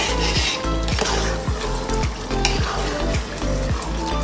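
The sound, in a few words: mixing chicken biryani masala in the pot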